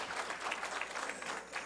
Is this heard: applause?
yes